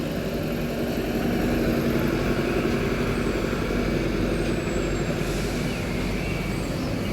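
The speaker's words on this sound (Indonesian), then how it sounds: "Wih, Mercy-nya berangkat ya menuju ke Solo Jogja Bumi Ayu 7085." A Mercedes bus pulls out of the Madiun bus terminal, its engine a loud, steady low rumble that fills the whole stretch, heard up close.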